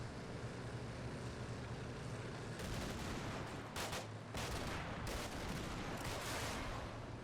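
Gunfire from the Cold War combat wargame Combat Mission: Cold War crackles in several distant bursts over a steady low rumble, loudest in the second half, with no voices.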